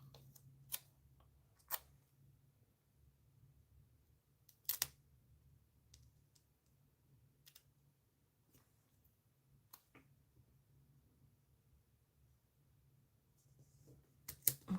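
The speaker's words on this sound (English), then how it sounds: "Scissors, please. I need to make a cut." Scissors snip paper in a quiet room while a paper planner is worked on, a few sharp isolated cuts spread apart with a couple of quick snips near the end.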